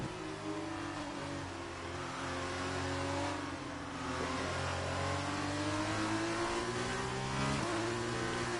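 An F2 race car's engine drones steadily in a Formula 1 video game, its layered tone rising and falling with gear changes. The engine note sits close and even, and no one talks.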